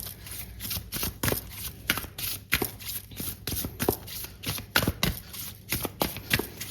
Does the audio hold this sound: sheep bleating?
no